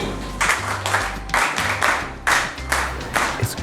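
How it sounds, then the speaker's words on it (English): A classroom of students claps together in short rhythmic bursts of applause, loud and near, with brief pauses between the rounds. "Clap for Christine."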